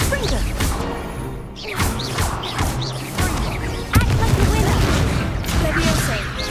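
A blasting spell goes off in a VR wizard video game: loud, crackling, booming effects layered in a dense wash of game noise, with a sharp hit near the middle.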